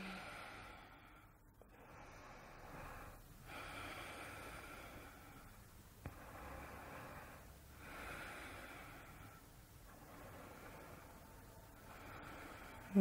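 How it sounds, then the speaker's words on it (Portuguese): Slow, deep breaths during a yoga session, several long inhales and exhales in a steady rhythm, soft and close with no talking. "Mais um ciclo de respiração profunda aqui."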